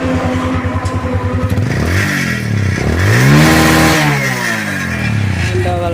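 A Bajaj Discover 135cc motorcycle engine runs close by, revving up and down in several swelling bursts over a steady idle.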